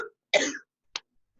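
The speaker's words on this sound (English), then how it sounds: "I had a cough attack" A single sharp cough bursts out loud and close, a dry coughing fit from a woman mid-presentation, followed by two short, fainter throat-clearing coughs spaced apart in an otherwise quiet room.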